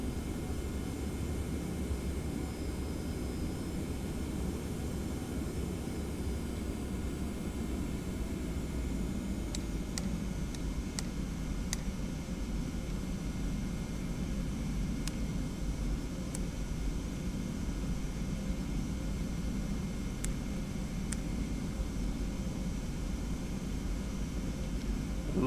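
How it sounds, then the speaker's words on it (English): A TFDi 717-200 jet airliner in a flight simulator rolls down the runway for takeoff, giving a steady, loud broadband engine roar that holds constant throughout, with a few brief faint clicks near the end. "QJet 1511, runway 34, clear for takeoff."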